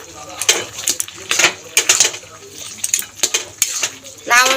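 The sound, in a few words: stirring bottle gourd curry in a pot and covering it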